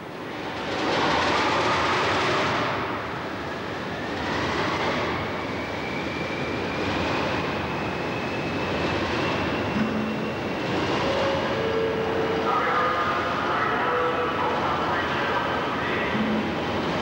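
A Class 50 diesel locomotive engine idles and runs at a depot, giving a loud, continuous rumbling roar with slow surging pulses and a faint rising whine, close and steady throughout.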